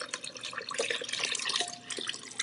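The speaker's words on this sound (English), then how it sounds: "Now, we do add our beef broth." Beef broth poured into a soup pot holding a wine-reduced base for barley soup with beef, making a steady, close liquid splashing and trickling that runs throughout without speech.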